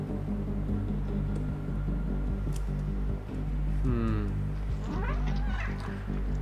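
A cat meows and caterwauls in the video game Stray, several drawn-out rising cries over a constant low machine hum and game ambience.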